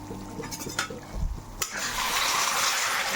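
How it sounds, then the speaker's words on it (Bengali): Chicken kosha, a thick Bengali chicken curry almost done in a pan, is stirred with a few scraping, clattering strokes over a low background sizzle, close up and with no talking. "আমি একটু মাংসটাকে আর একবার নেড়ে নেবো"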